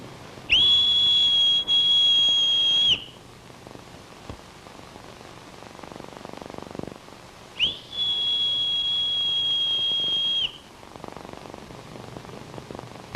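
A shrill, steady whistle sounds twice, each blast held for a couple of seconds with a quiet gap between them.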